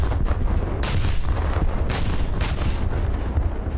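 Heavy naval guns thunder in War Thunder aboard the battleship SMS Nassau, firing repeated deep booming salvos with sharp cracks spaced through a rumbling roar, loud and close.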